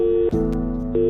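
A steady telephone tone after the other party hangs up abruptly, a loud electronic hum with one short break midway, then continuing alone.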